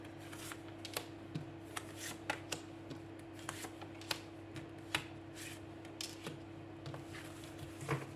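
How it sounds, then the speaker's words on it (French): Tarot cards being shuffled before a reading, a faint papery riffle of quick slaps and flicks repeating irregularly over a steady low hum. "Je vais tirer 5 cartes."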